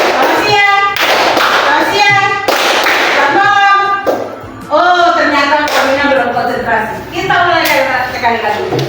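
Children in an Indonesian classroom clap their hands together in a call-and-response clapping game, sharp rhythmic claps in bursts alternating with children's chanting voices and a teacher talking, close and loud.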